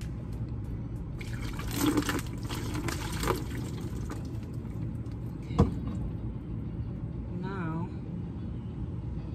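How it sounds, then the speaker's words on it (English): Water running and trickling while three tops are rinsed off in a van, a continuous wet splashing under a person talking, with a few louder sloshes and clatters. "So I'm gonna rinse these two things off"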